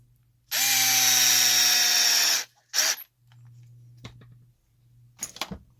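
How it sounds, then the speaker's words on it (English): A power driver drives a pin retainer screw into the hub of a Losi DBXL-E 2.0 RC car, whirring steadily for about two seconds, then a short second burst and a few small clicks. "Put your pin retainer screw in."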